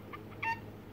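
A kids smartwatch animal quiz game plays a short chicken clucking sound effect, a few quick tinny clucks from a small speaker over a low hum.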